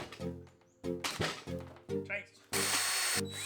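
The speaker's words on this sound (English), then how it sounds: "we're just gonna have to drill these out slightly bigger so we can fit those bigger bolts in." Bursts of a power drill whirring in short runs, enlarging bolt holes on a Power Wheels build, with a longer, louder high-pitched drilling stretch near the end, close by, with brief voices between.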